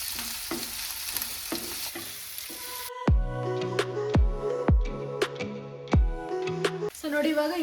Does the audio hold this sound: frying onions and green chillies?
yes